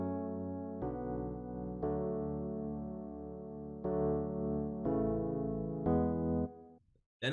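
Layered synth chords built from a bass line for an electronic drop, sustained block chords changing every second or so, loud and alone, cutting off abruptly near the end.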